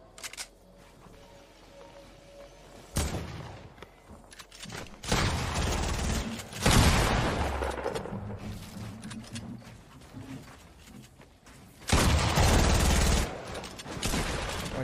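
Shotgun fire and game effects during a Fortnite match, heard as a few loud, abrupt bursts at irregular intervals over a busy background of game sounds, with no speech.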